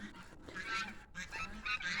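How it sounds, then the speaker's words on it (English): Several geese honk repeatedly in loud, nasal bursts close by, their calls overlapping in an uneven, noisy chorus. "There's my geese. I knew they'd be here somewhere. It might be a little loud for a minute, sorry."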